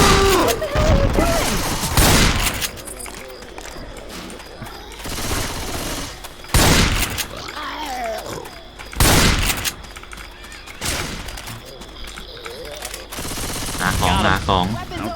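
Shotgun blasts boom in Left 4 Dead 2, several heavy, well-spaced shots amid steady combat noise, with people talking throughout.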